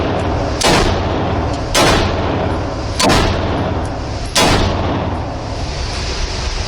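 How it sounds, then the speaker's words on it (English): Four loud, sharp gunshots from an AR-556 rifle fired with no suppressor, spaced roughly a second apart, each a sudden crack with a short ringing tail over steady outdoor background noise. "safety off, here we go, the AR-556 without that AMTAC"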